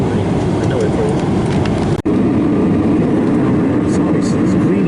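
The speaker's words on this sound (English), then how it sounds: "Engine noise is much worse in the rear of the aircraft" Constant broadband airliner engine roar heard from the rear of the passenger cabin in flight, loud and steady with a brief dropout partway through and faint voices beneath.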